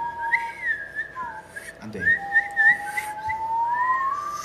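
A person whistles a wavering melodic line with rising and falling glides, close and clear, with a brief short spoken remark partway through.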